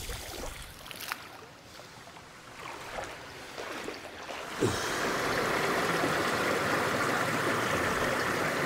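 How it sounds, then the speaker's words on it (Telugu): Someone wades through water at the entrance to Sri Bugga Ramalingeshwara Swamy Temple. Quiet scattered splashes give way to a sudden, steady rush of sloshing water that continues at a constant level, with no talking. "ఇట్లా వాటర్ నుంచి నడుచుకుంటూ వెళ్ళాలి మనం లోపలికి."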